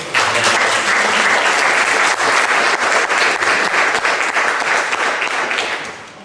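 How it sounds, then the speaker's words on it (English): A live audience at a prose reading gives a loud, dense round of applause that holds steady for several seconds and then tapers off at the end. "give me a little round of applause there"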